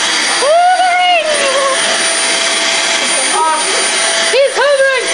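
A heavy household vacuum cleaner runs steadily close by with a constant droning, high-pitched whine, while people talk and exclaim over it.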